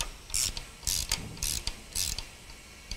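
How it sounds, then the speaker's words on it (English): Ratchet turning on a BMW N63 valve seal tool to compress a valve spring: four evenly spaced bursts of quick, close metallic clicking, each a short rattling pawl sequence, with no talking. "Reverse the ratchet and start compressing the valve spring."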